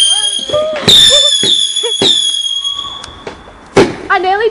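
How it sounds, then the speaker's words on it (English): Fireworks go off on Bonfire Night: loud whistling screeches with sharp cracks and pops, one big burst near the end, while people's voices mix in faintly. "There's a firework."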